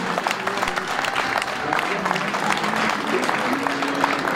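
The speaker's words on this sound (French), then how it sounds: "on peut l'applaudir" Outdoor crowd applause at a cycling criterium ceremony in Saint-André-les-Alpes, dense continuous clapping close by, with faint voices and a tonal whistle-like sound mixed in.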